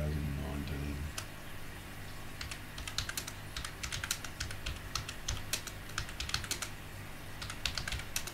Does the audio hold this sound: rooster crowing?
no